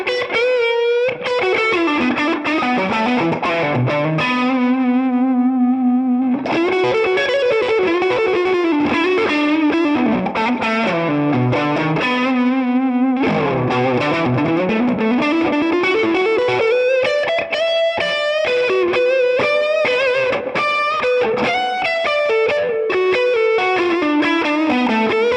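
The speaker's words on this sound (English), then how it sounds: "Actually bring down the volume, you can actually get a really good blues tone on this." An ESP Eclipse electric guitar with its volume rolled back for a bluesy tone, still gritty and distorted, playing continuous bending lead phrases and chords, loud and close, with no talking.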